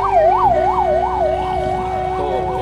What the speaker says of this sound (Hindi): पहले एम्बुलेंस को जाने देते हैं गाइस